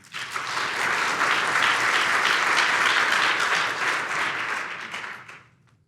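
Audience applause welcoming a speaker at a community college equity event, a steady dense round of clapping that swells quickly, holds, then fades out near the end.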